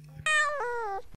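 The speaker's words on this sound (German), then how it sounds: "welche Katze schiebt jetzt hier Stress?" A single loud, close cat meow, drawn out and falling in pitch, cuts in abruptly and stops short, as if added as a sound effect.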